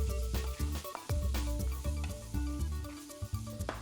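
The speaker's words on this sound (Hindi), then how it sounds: "और इसको हम अच्छे से पका लेते हैं, भून लेते हैं।" Tomatoes cooking down with turmeric powder in a hot pan for gathiya sev tamatar, a steady close sizzle with bursts of frying crackle throughout, no voices.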